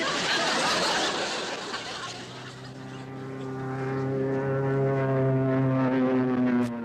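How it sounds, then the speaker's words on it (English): An enemy propeller airplane drones overhead, a loud, steady engine hum that rises and holds with a clear tonal whine, close and continuous throughout. "Hey, enemy plane! Take cover!"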